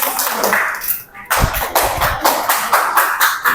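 Students in a classroom applaud together, a burst of dense clapping that swells and continues with rhythmic strokes after a brief pause, fairly close and loud.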